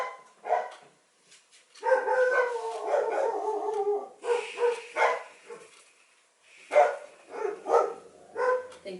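Two dogs howl and bark in drawn-out, wavering bursts with short pauses between, fairly close and loud, with no talking.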